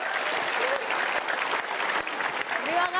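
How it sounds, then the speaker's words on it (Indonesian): Sustained audience applause fills a hall after a motivational talk on giving, dense and steady clapping from a large crowd with a voice rising briefly near the end. "Aplaus buat kita semua."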